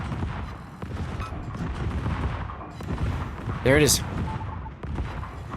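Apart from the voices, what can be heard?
warship secondary guns firing in the World of Warships video game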